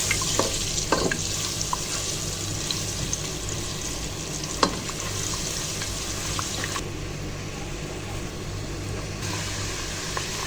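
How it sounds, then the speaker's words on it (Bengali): Garlic paste frying in hot oil for a Sylheti akhni, a steady close sizzle with occasional stirring scrapes and clinks, alone without talk. "এক মিনিটের মতো রসুনটাকে হালকা ভেজে নিয়ে"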